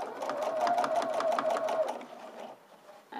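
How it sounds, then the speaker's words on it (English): Close up, a home sewing machine stitches a set-in sleeve in a quick, even run of rhythmic needle strokes lasting about two seconds before it slows and stops. "what you're going to do is sew all the way around to where you started"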